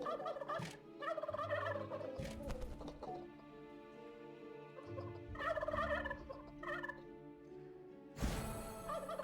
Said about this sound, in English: Those gobblers are so annoying.